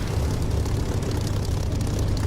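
Propeller drone of a Spitfire's piston engine at takeoff power in the DCS flight simulator, a steady dense roar heavy in low rumble, loud and continuous with no voices.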